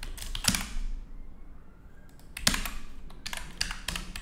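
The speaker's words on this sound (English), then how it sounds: "otherwise you can type like this" Computer keyboard typing comes in short bursts of sharp clicky keystrokes, with clustered taps at intervals and quieter pauses between, close and alone without speech.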